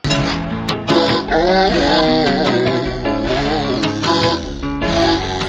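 A dense, sustained synth patch resampled on an MPC plays steadily, thick and bright with shifting tones, continuous and loud with no voices.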